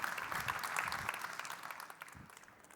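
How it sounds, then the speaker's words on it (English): An audience at a keynote on design for additive manufacturing claps, a dense, even wash of applause that starts strong and gradually fades toward the end. "Big applause again for Connor Mayen."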